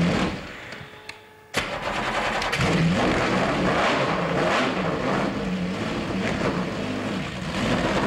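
A racing car engine cranks briefly, then catches with a sudden loud burst and settles into a rough, uneven revving idle with rising and falling throttle blips, close and alone.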